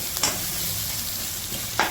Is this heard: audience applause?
no